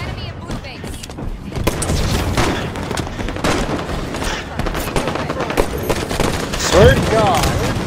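Sniper rifle fire in a Halo 5 multiplayer match crackles through a dense mix of gunfire bursts and booming blasts, loud and continuous, with voices talking over the battle.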